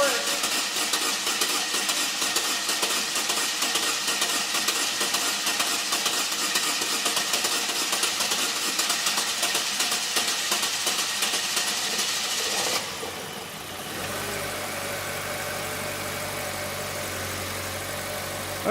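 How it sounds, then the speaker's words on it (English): A car engine suspected of internal mechanical trouble, freshly topped up with oil and running without coolant, idles smoothly with a steady close hum for most of the stretch, then cuts to a quieter, lower drone near the end. "This engine ran pretty smooth."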